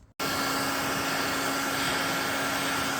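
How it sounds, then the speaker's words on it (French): A hair dryer heats a Peugeot Fox moped engine, switching on abruptly and then blowing with a loud, steady whirring roar and a constant tonal whine. "très utile le sèche-cheveux."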